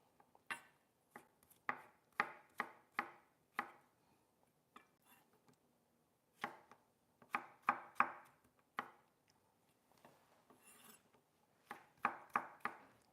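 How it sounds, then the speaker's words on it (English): A knife chops a cucumber into strips on a cutting board, with crisp rhythmic bursts of rapid taps separated by short pauses, close and clear with no talking. "We'll make some cucumber strips just like this."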